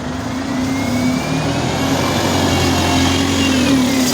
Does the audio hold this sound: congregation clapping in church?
no